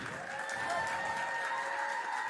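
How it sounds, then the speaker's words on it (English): Sustained audience applause at a fashion show, a steady dense clapping that fills the short stretch without pause, fairly close and even in level, with no talk over it. "just keep the rounds of applause going"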